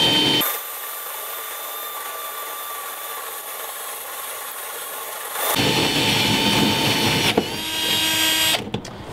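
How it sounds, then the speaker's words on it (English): A power drill whirs steadily up close, then bites in with a louder, rougher grinding as it cuts through a fiberglass boat hull, ending in a few clunks. "switch the drill back to forward and go ahead and drill all the way through the fiberglass"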